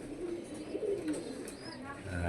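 Caged pigeons, said to have colds, coo softly in short low bursts, faint and intermittent against a quiet background.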